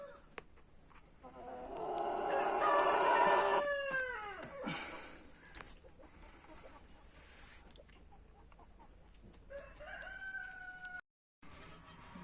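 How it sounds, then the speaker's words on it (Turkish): Roosters crowing in a poultry yard, one long loud crow with rising and falling harmonics followed by shorter, fainter crows later on, with no talk over them. "Horozlar da artık burada."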